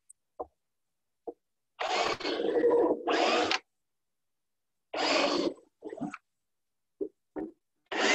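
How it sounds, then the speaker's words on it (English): A power drill bores holes in wooden raised bed boards in two loud, close bursts, the first longer and rising in pitch, with scattered knocks and taps from the boards between them. "We'll just quickly drill 4 holes."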